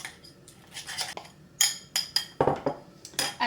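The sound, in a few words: stirring melted white chocolate mixture in a bowl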